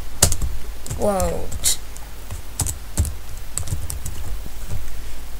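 Typing on a computer keyboard while writing HTML code, with sharp, irregular key clicks close by and a brief spoken word partway through.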